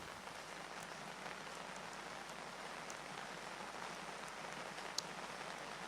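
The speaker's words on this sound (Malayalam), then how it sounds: "നമ്മളിപ്പോൾ സംസാരിക്കാൻ തുടങ്ങുന്ന സമയത്താണ് മഴ തുടങ്ങിയിട്ടുള്ളത്" Heavy rain falls steadily during landslide-bringing downpours in Kottayam, a dense, even hiss of drops on surfaces, faint in level with occasional louder drip spikes.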